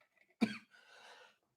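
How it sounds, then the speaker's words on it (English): A single sharp cough, fairly close, followed by a brief breathy tail, then quiet. "Sorry, coughing again."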